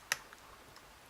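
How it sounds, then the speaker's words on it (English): One faint, sharp click from a pin while picking a Vachette V DIS+ six-pin lock with sliders, a single tiny tick close up in otherwise quiet surroundings. "Yes, we've got a click."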